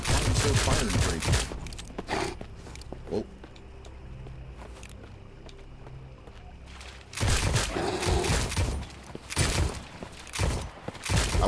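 Rapid gunfire rattles in bursts in Call of Duty Zombies, loud dense volleys at the start and end with a quieter stretch of scattered shots between.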